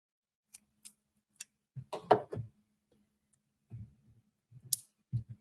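Scissors trim a small paper scarecrow cutout for a card, giving a handful of short, crisp snips and clicks, close and fairly quiet, with gaps of near silence between them.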